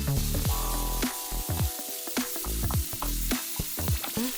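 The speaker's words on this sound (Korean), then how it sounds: "불린 쌀 역시 양파처럼 반투명한 상태가 될 때까지 볶아주세요." Soaked rice stir-frying with garlic and onion in a pan for rose risotto sizzles steadily, broken by repeated scraping and clacking strokes of a spatula stirring close by, with no talk.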